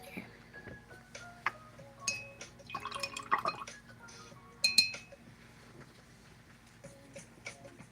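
Paintbrush rinsed in a glass of water: quiet clinks of the brush against the glass and faint splashes and drips, irregular and close.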